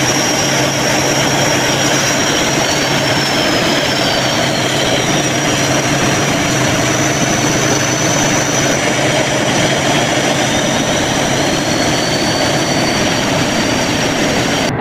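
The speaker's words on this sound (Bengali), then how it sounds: "আজকে ইঞ্জিন কিভাবে কন্ট্রোল করে সেটা দেখাবো" The engine of the Tarango 7 passenger launch runs at night, a loud, steady droning roar with a constant hum and a faint high whine sustained throughout, no voices.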